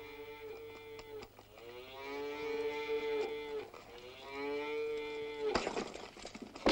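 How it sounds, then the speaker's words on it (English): Cattle on a wild northern frontier low repeatedly, several long drawn-out moos overlapping one after another, ending in a burst of rough commotion. "Get the cattle out."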